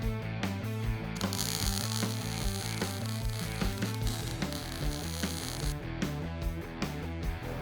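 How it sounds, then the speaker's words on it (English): Steel tubing being bent on an improvised arch maker in a custom garage, giving a loud continuous rhythmic ratcheting and grinding of gears with a steady mechanical hum throughout, no talking. "Here is an improvised arch maker. I need to create a radius around those tires."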